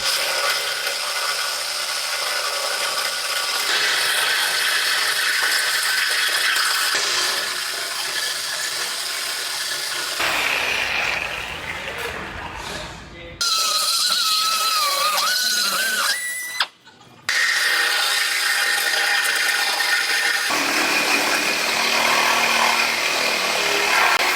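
A power tool cuts through a steel truck frame, a loud continuous whine and grind with pauses and pitch shifts as the blade bites, stops briefly and resumes, no talk.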